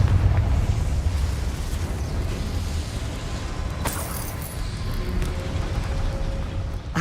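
Confringo, the explosive spell in Hogwarts Legacy, sets off a deep rumbling blast. A sharp, bright crack lands a few seconds in, then a long, roiling roar fades out.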